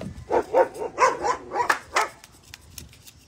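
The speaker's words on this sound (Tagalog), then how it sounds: "Ang daming aso dito." Dogs bark in a quick run of yaps and woofs, fairly close, then trail off into a few fainter yips.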